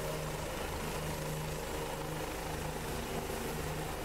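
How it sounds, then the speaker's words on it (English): A helicopter engine drones steadily in the X-Plane flight simulator game, heard from an outside view as a constant low rotor hum with a sustained tonal whine, faint and unbroken with no talking. "I still enjoy flying these helicopters from outside"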